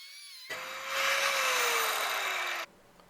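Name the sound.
saw cutting metal structure on a scrap board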